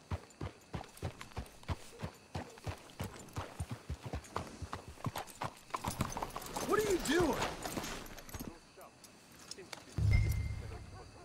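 Horse hooves clip-clop at a steady walking rhythm in the Wild West game Red Dead Redemption 2, close and distinct, with voices speaking partway through before the hoofbeats fade.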